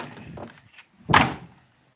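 A Ford Escort door shuts with a single firm thunk near the middle, heard close and loud after a softer earlier rattle, with no talking.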